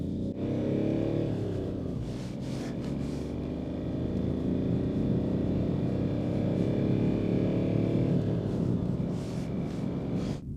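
Audi A2 1.2 TDI diesel accelerating hard from a standstill, heard from inside as a steady droning engine rumble that rises in pitch through slow gear changes, fairly quiet, with no voices.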